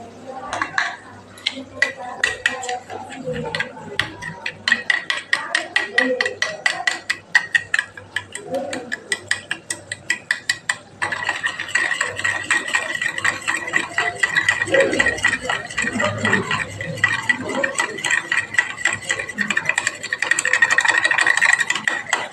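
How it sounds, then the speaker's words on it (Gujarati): Yogurt is beaten in a bowl for a Kathiyawadi curry: a quick, steady, close rattle of a whisk or spoon against the bowl goes on throughout while someone talks over it. "અહીંયા આપણે જે દહીં લીધું એને આપણે ફેટી લેવાનું છે।"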